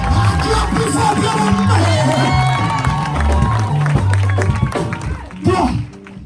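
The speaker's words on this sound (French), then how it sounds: "Acclame plus fort" A church congregation at a Sunday service cheers, shouts and claps loudly together under music, a lively crowd roar that holds steady and then drops away near the end.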